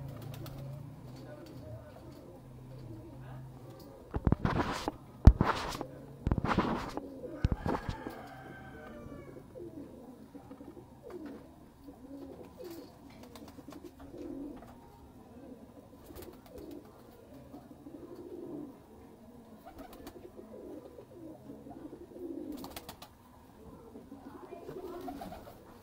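Heera Lal pigeons coo repeatedly nearby, soft throaty calls recurring through the clip, with a few louder sharp bursts early on and a person speaking at times.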